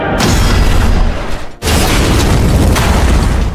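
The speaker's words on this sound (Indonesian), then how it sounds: "Dirinya akan meledakkan pesawatnya ke mulut Godzilla." A plane explodes in Godzilla's mouth in the film Godzilla Minus One, a loud, sustained roaring blast that breaks off briefly partway through and then surges back just as heavily.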